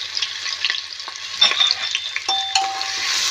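Spices frying with ginger and garlic paste in a pan as they are stirred, close scraping and clinking strokes over a bright, steady sizzle, with no talking.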